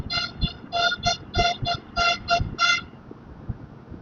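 A motorcycle horn on an XPulse 200 4V beeps over and over in short toots while riding slowly through traffic in Assam, about nine bursts, close and loud, over faint road rumble.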